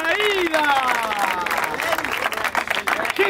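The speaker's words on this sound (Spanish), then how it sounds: "¡Un aplauso para la ida!" Crowd applause and cheering at a freestyle rap battle final held outdoors at a regional event, loud and dense with shouting voices and a whistle-like tone rising above the clapping.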